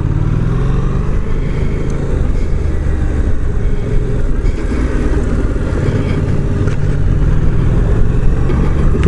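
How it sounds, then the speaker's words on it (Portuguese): A Yamaha Tracer 700 motorcycle engine pulls hard under acceleration on a test ride, a loud, continuous mid-toned roar mixed with wind rush, with no speech. "Esta brutalidade deste motor."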